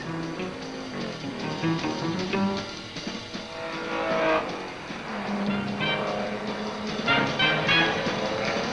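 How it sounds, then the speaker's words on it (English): A race car in a two-hour endurance sports car race drives toward the pits, its engine note rising and falling through gear changes over a continuous roar of track noise. "car 59, running 24th overall and first in its class, steams through number 9 and heads for the pit"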